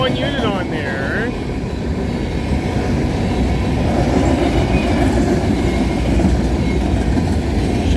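A freight train with a DPU locomotive rolls past a VIA station in Cobourg, Ontario at night, a loud steady rumble of railcars filling the whole stretch, with a brief voice early on.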